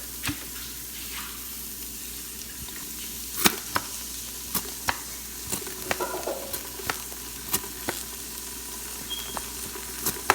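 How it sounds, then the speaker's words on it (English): Onions and garlic sizzle steadily in a hot pan, with irregular scraping and tapping as they are stirred. "So my onions mixing, frying, and I'm gonna add"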